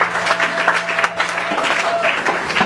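A church congregation claps and applauds steadily throughout, dense and continuous, mixed with voices from the crowd during a worship service.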